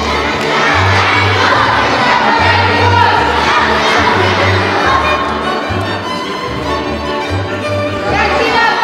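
A crowd of schoolchildren shout loudly together at a school concert by a Hungarian folk music ensemble, a dense continuous roar of voices with cheering over a pulsing low rhythmic beat.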